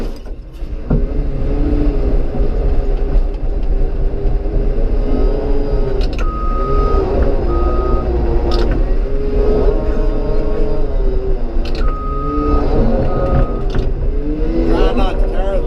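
Bulldozer driving through a ditch onto a road, a loud continuous diesel rumble with shifting engine tones and a few brief whines, heard up close throughout.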